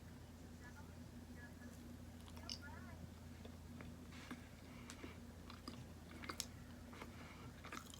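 Someone bites and chews a double egg yolk mooncake up close with soft, moist crunches and smacking sounds, while a low steady hum runs underneath.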